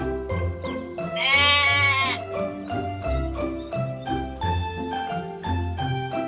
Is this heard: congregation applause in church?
no